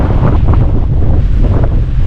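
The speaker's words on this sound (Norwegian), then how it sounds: "Det er en helvetes vind." Strong gusting wind batters the microphone in an unbroken, loud, rumbling roar, outdoors in a harsh windy spot in eastern Finnmark while a camp is packed up.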